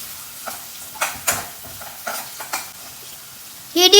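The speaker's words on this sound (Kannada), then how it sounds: "ಯಾವ ಈರುಳ್ಳಿ ಬ್ರೌನಿಶ್ ಬರೋ ತನಕ ಫ್ರೈ ಮಾಡ್ಕೋಬೇಕಾ?" Onions frying in a pan while being stirred, several scraping strokes and clinks over a light sizzle, close and moderately loud, with a brief voice at the end.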